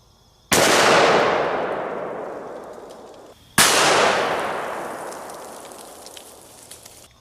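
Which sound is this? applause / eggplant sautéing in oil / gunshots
gunshots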